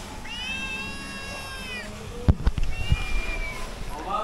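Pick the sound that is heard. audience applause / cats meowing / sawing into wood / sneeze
cats meowing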